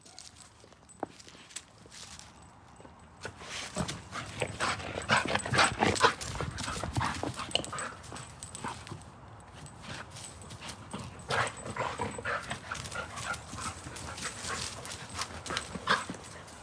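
A dog whimpers and fusses nearby amid shuffling paws and footsteps, restless noises rising and falling over about sixteen seconds with no speech.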